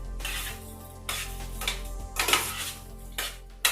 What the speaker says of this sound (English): let me stir this in just a little bit